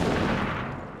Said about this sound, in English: Just like we're taking fire!